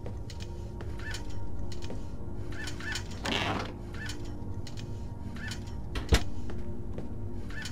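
Bird calls in the game Fahrenheit, short repeated chirps and clucks scattered over a steady ambient hum, with a brief rushing swell midway and a sharp click near the end.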